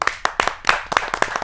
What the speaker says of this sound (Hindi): आपकी जोरदार तालियां मिले